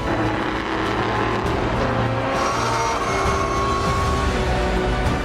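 Race cars roaring away together at the start of a race at Portimão circuit, a dense, loud, continuous engine blare with overlapping tones, no voices.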